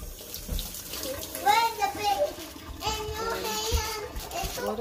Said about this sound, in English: wash your hands right here